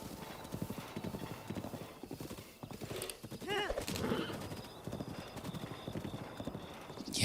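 Horse hooves clip-clop in a steady trotting rhythm in a Zelda video game, with a brief whinny partway through, heard close and moderately quiet under game music and effects.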